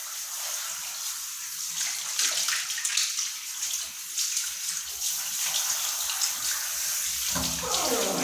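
Tap water pours steadily into a tub while a dog is bathed, a continuous close splashing rush that holds for the whole stretch and swells slightly toward the end.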